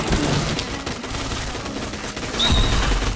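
Gunfire in a shooting video game, rapid bursts of shots blending into a dense, rattling barrage, with a heavier impact near the end, loud and continuous without speech.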